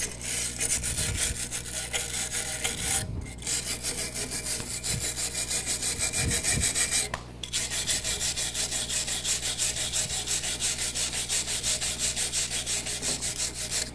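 A wire brush scrubs loose rust scale and flakes off metal in rapid, even back-and-forth strokes, a loud continuous scraping with two brief pauses, and no voices.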